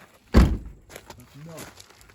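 A vehicle door shuts with one solid, close thunk, followed by fainter knocks and rustling while someone speaks briefly.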